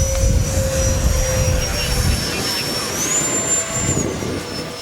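A small FMS Rafale 64mm electric ducted-fan RC jet whines loudly as it is hand launched, a high steady tone that rises and shifts in pitch, with rumbling wind and handling noise close by.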